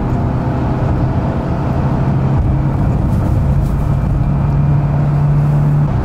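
A vintage car's engine drones loudly and steadily at close range while accelerating in third gear on a rolling road dynamometer, with a low sustained tone slowly rising in pitch.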